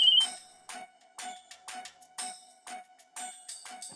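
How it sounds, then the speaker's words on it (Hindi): A mobile phone ringtone plays a repeating chirpy electronic pattern, about eight short bursts at a steady rhythm over a faint continuous tone, close and clear, with no talking. "मेरी मम्मी का फोन आ रहा है"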